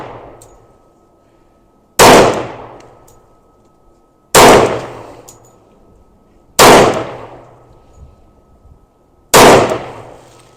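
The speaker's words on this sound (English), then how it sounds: "This is some hollow points, and I don't typically shoot hollow points with my 10mm." A Tanfoglio 10mm pistol fires XTP hollow point rounds: four loud, sharp shots spaced two to three seconds apart, each followed by a short decaying ring, with no talking.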